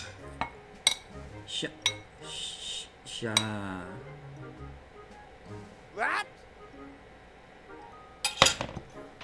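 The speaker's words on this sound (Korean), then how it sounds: "저는 저만의 방법으로 배를 숟가락으로 잘라서" A metal spoon cutting a steamed pear in a bowl, with scattered clinks and scrapes against the dish, close and fairly quiet, intermittent across the stretch while a person talks.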